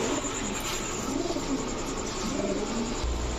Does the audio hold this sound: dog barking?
no